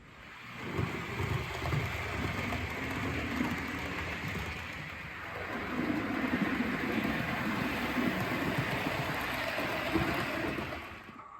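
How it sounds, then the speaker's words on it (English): A Bachmann Class 41 prototype HST model locomotive pulling Hornby Mark 1 coaches around a layout produces a steady, close, continuous rumbling whir that swells in the middle, with no talking over it. "the locomotive on the layout, I've put it running with some Hornby Mark 1 RTC coaches"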